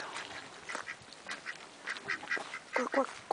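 Several short duck quacks sound at irregular intervals, moderately close, over a soft background murmur, in Trovolhue, Chile.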